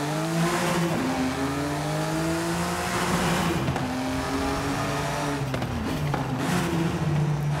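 A BMW i8 in Forza Horizon 5 roars loudly and continuously, its engine tone climbing and dropping through gear shifts as it accelerates, with a faint tire squeal and no talk over it.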